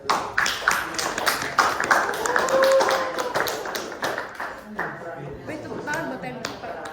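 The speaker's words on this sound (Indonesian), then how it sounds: "Marilah kita berikan tepuk tangan kepada" Audience applause at a presidential debate, a dense spread of clapping that swells across the first few seconds and then thins out, with voices talking over it near the end.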